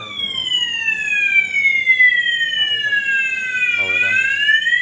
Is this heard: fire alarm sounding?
yes